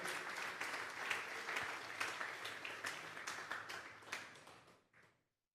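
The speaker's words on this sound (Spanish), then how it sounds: "Dele una ofrenda de palmas a Dios en esta tarde" A church congregation gives an offering of applause during a Sunday service, dense clapping filling the room for about five seconds before tapering off and stopping abruptly.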